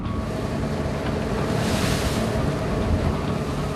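Rough sea waves slap and spray against a Korean fishing boat laying traps for whelks, a loud continuous wash with heavy wind buffeting over it, near and without talk.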